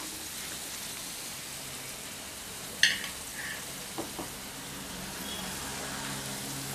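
Raisins fry in a pan for a Tamil kadala parippu payasam, giving a faint, steady sizzle with a few small clicks and pops partway through.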